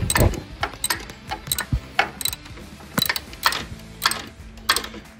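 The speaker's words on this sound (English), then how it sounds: "now it's gotten tight enough I can feel resistance while I'm ratcheting it" A hand ratchet tightens bolts on a Ford Model A transmission, producing close, crisp bursts of rapid clicking in short repeated strokes separated by brief pauses.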